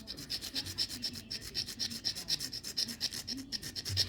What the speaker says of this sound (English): I'm just scraping away the ruby